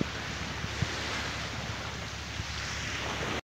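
Sea waves washing onto the shore of Koh Rong island in Cambodia, a steady faint surf wash with low rumble and some wind noise, no voices.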